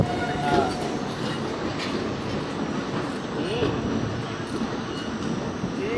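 The Shramjivi Express pulling out of Patna Junction, a steady mechanical rumble of the moving train with faint squeals and rattles, heard from on board with quiet background chatter.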